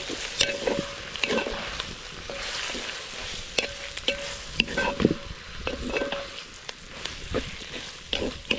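Mutton boti, Telangana style, stirred in a frying pan: a steady sizzle with repeated scraping spoon strokes against the pan, close and fairly loud, no voices.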